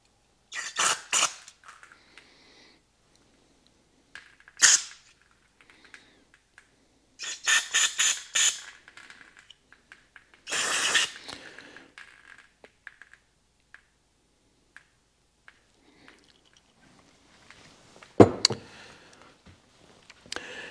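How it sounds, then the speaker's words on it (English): An aerosol cleaner sprays into the fuel system of a 1952 Chevy Styleline in several short hissing bursts of uneven length, separated by quiet pauses and faint handling clicks, with one sharp clatter near the end. "Just spray everything out."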